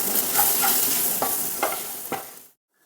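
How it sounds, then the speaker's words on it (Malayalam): Chicken masala is stirred and fried in a pan, with a continuous sizzle and several distinct scraping strokes of the spoon before it stops abruptly. "മസാല നന്നായി മിക്സ് ചെയ്തിട്ട് ഇളക്കി കൊടുക്കാം"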